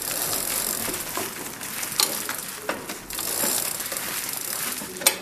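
A hand tool tightens the pedal on a Smart Governor CR16 bicycle with Shimano Claris 16-speed, giving rapid ratcheting clicks in several close bursts separated by brief pauses.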